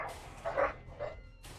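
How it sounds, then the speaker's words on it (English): Dogs playing let out a few short, muffled barks and yips in quick succession, faint and somewhat distant. "And my dogs are going at it."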